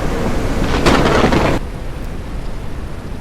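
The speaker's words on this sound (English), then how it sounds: "apparently it's raining cats and dogs out here" Video game audio: a loud wash of heavy rain pours down, then abruptly drops to a softer, steady patter for the remaining seconds.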